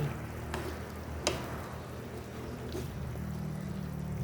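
Potatoes and carrots frying in a pan for beef ginisa, a steady close sizzle with a few sharp clicks of stirring utensils against the pan and no talking.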